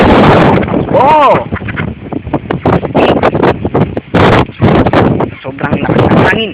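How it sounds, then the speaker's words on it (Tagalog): Strong wind buffets a microphone outdoors in loud, gusty roaring bursts, with someone speaking over it through most of the stretch. "Sobrang lakas ng hangin."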